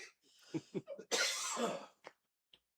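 A person nearby coughs and clears their throat in a few short rough bursts, then one longer harsh cough, ending in quiet.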